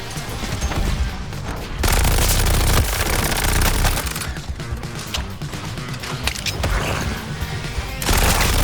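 Gunfire rattles through the Suicide Squad: Kill the Justice League video game in loud, rapid bursts, sustained automatic fire broken by brief pauses and mechanical clicks, close and dense with no talking over it.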